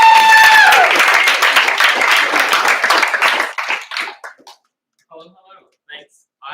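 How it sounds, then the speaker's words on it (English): Audience round of applause for a guest speaker at a gathering, loud clapping that fades out after a few seconds, leaving a few scattered claps and faint sounds. "So guys, get a round of applause for Colin"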